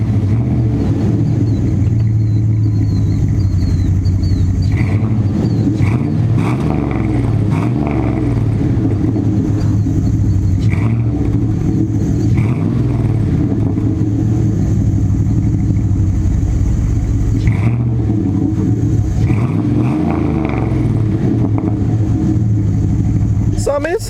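A diesel pickup truck engine idles steadily with a low, even rumble throughout, while a person talks over it.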